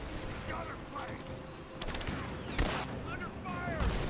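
Several grenades blow up in quick succession during a Rise of the Tomb Raider fight, sharp bursts cracking out over busy combat noise with someone talking at times.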